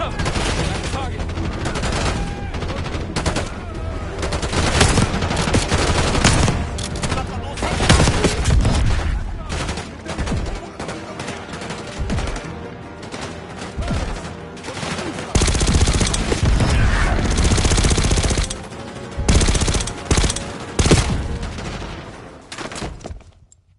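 Sustained bursts of rapid gunfire and booming blasts fill a Call of Duty: Black Ops 6 campaign battle among desert dunes, loud and dense, with brief lulls and a shouted voice now and then.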